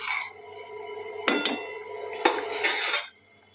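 Dishes, pots and utensils being washed by hand, with close clattering of metal and glass, a couple of sharp clanks and running water splashing, no voices.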